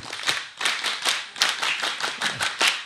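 A group doing a rhythmic Scout clap at a Pramuka anniversary gathering, a patterned series of sharp, fairly loud claps in quick clusters, with no voices over them.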